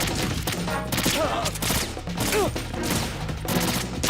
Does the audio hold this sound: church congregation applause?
no